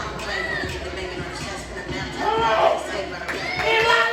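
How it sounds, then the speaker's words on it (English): A small-town wrestling crowd in Eldon, Missouri murmurs and stirs with scattered boos, cheers and claps as a wrestler heads to the ring, a steady, roomy crowd wash that swells toward the end. "A little mixed reaction from the crowd. Few boos, few cheers."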